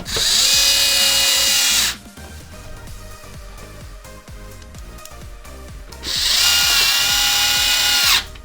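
A power screwdriver drives T10 screws into an Xbox One X casing in two steady whirring bursts of about two seconds each, close up, with quieter handling clatter in the pause between them.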